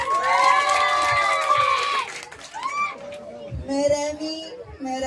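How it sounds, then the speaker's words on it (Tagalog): A pageant audience screams and cheers during the swimsuit round of a gay beauty contest. Loud, high shouts and whoops rise and fall over a noisy crowd, and a voice can be heard among them. "Wala ho bang malakas na palakpakan at hiyawan dyan?"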